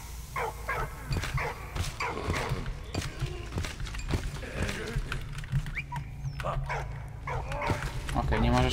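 Dog barking in the World War I video game Valiant Hearts: The Great War, repeated sharp barks in a steady run, loud and close, mixed with someone talking over the game sound.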